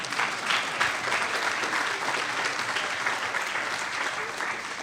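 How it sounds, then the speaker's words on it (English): A season banquet crowd for a university volleyball team breaks into sustained applause, a dense wash of many hands clapping at an even level from start to finish. "you can give an applause to that"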